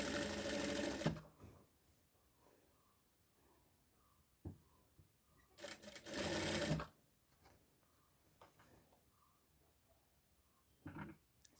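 A sewing machine stitching folded umbrella fabric in a Kerala-style umbrella-making setup runs in two short bursts, with quiet handling clicks and rustles between them.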